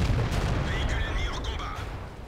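A tank cannon shot in World of Tanks, an ELC light tank battle on the El Hallouf map, lands as a heavy low boom that rolls out over the whole short moment, with faint game tones above.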